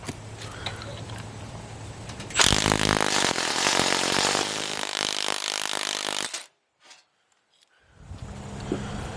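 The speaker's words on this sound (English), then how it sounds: "We've got a Harbor Freight puller here, a bearing puller on the input shaft pocket bearing." A Harbor Freight bearing puller pulls the input shaft pocket bearing off a ZF5 manual transmission during a rebuild, a loud, harsh mechanical rattling and grinding burst that runs about four seconds and then cuts off sharply to near silence.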